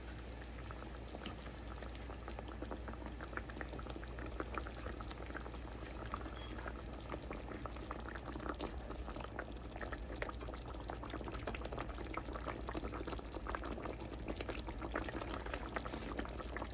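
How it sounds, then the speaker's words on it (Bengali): A pot of pangasius fish curry broth with cherry tomatoes at a steady rolling boil, its dense bubbling continuous and even throughout, close by and with no voices. "আমার এটা ফুটে গিয়েছে, এখন আমি মাছগুলি দিয়ে দিচ্ছি"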